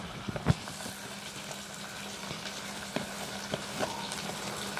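Onion, chilli and curry leaves tempering in hot oil give a steady, soft sizzle and crackle with a few sharper pops and occasional stirring clinks near the start.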